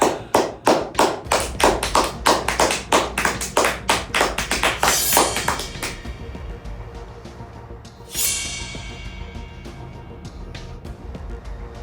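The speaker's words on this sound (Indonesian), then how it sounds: "Beri tepuk tangan untuk Livia dan Damar." Clapping after a school debate: sharp, evenly spaced claps land quickly in a steady rhythm for about six seconds, then die away into quieter room noise with a brief whoosh near the end.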